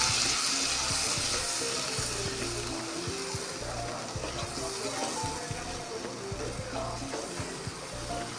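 Water is poured into a chili spice mix during kachori cooking. A soft, continuous pouring and splashing wash lasts the whole stretch and fades slightly toward the end, with faint tonal background sounds underneath.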